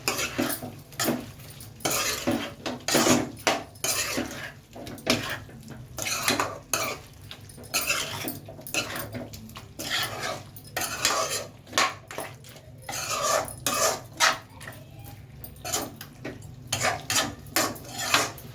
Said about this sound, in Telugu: సాల్ట్ వేసాం కదా, ఒకసారి కలిపేసుకుందాం